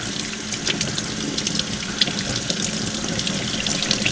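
Water runs steadily from a tap while a freshly cleaned rainbow trout is rinsed under it, a continuous close splashing hiss with small spatters, and no one speaking.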